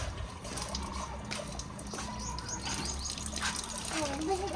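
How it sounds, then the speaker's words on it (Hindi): Water runs steadily into a household tank with a constant splashing trickle, heard alongside faint voices and the occasional bird in the background. "टैंकी तो फुल करने दो, ऊपर पानी भी नहीं है।"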